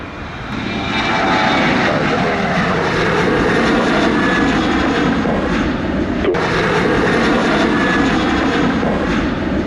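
Airplane at Sangster International Airport in Montego Bay, Jamaica, a loud, steady engine roar close by that holds for the whole stretch without letting up.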